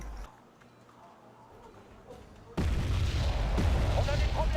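Video game battle artillery: after a quiet stretch with soft distant thuds, a sudden loud blast erupts and a dense, roaring barrage continues to the end.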